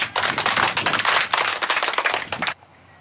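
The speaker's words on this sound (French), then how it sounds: "Très bien, on applaudit." An audience claps together in a burst of dense applause lasting about two and a half seconds, then it cuts off abruptly.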